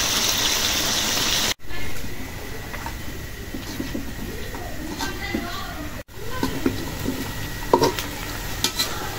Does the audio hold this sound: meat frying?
yes